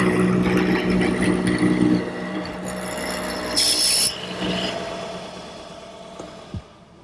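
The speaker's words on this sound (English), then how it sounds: "To cut the mortise in the stile, I'm going to use my hollow chisel mortiser." A hollow chisel mortiser cuts a mortise into a wooden high chair stile, giving a loud grinding, rasping drone that eases off into a fading whir, with a brief knock near the end.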